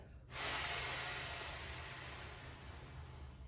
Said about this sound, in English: And then forcefully exhale.